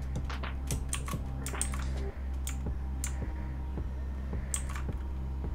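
Keyboard shortcuts being typed on a computer keyboard while photo-editing software is in use, with crisp close clicks coming in small quick clusters and brief pauses between them, with no voices.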